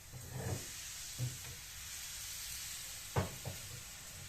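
Plain akıtma crepe batter sizzles in a pan with a steady, soft hiss. A few brief louder bursts and clinks break through, close and quiet.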